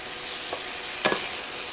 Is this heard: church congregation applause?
no